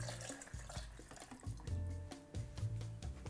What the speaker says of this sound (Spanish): Aquí vamos a ponerle la taza de ron oscuro.